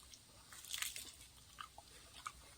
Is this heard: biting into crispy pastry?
yes